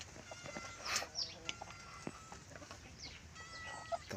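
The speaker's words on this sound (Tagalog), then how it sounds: "Pero yung inahin, ilalagay ko sa loob." A native mother hen clucks on a farm in short, soft, irregular calls, close by, with faint chirps and other farmyard bird sounds around her.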